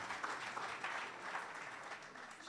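An audience at a political gathering in Côte d'Ivoire applauds steadily throughout, a faint, distant wash of many hands clapping with no one speaking over it.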